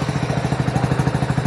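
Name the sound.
BS6 motorcycle engine starting with self-starter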